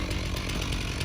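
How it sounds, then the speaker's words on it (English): A chainsaw with its chain fitted backwards cuts into deep snow to uncover a hydrant, a loud close continuous engine drone with a grinding buzz, steady and unbroken. "Probably never seen a chainsaw cut snow before."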